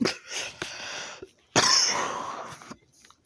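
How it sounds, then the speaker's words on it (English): Several coughs and throat-clearing sounds, close and fairly loud, in separate bursts with short silences between them and one longer harsh cough in the middle. "all these voiceovers are making me cough."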